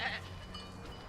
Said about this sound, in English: Oh, I knew it was the goats.